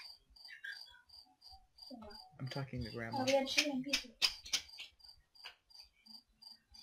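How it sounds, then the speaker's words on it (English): Crickets chirp in short, evenly spaced pulses, steady and faint in the background, continuing under a person talking in the middle and carrying on alone afterwards. "the crickets are actually chirping"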